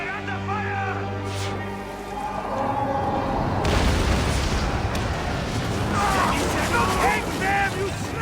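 A ship fleet firing and explosions in Assassin's Creed Origins, a deep rumbling barrage that swells into sustained roaring blasts, with voices and music heard over the start.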